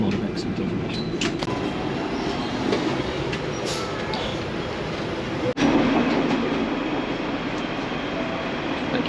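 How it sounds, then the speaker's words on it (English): A Hong Kong tram rumbles steadily along the street, close and continuous, with a brief sharp click midway and a slight swell afterwards. "Thank you, tram. That's been my tram for a couple of miles."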